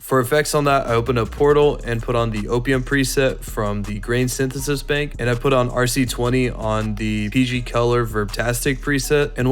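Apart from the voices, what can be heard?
No everyday noise stands out behind the speech.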